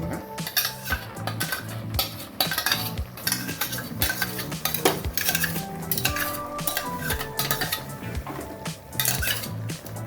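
Masala, chillies and onion go into a pot of village-style chicken sambar, a busy, continuous clatter of a metal spoon scraping and knocking against the pot with faint sizzling beneath and no voices.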